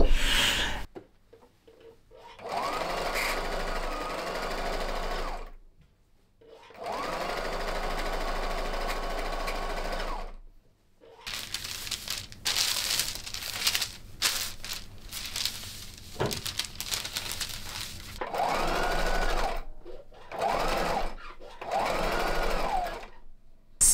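A domestic sewing machine stitches fabric in long steady bursts, stopping and restarting several times, close and fairly loud, with short pauses and handling noises between runs.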